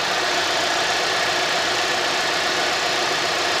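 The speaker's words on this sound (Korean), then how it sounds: "엔진 사운드 역시나 GDI 엔진다운 소리를 내고 있었구나라고 봐주시면 됩니다" A 2016 Kia K7 GDI engine with about 170,000 km idles close by with the hood open, a steady, even drone with faint ticking clatter throughout, no voices.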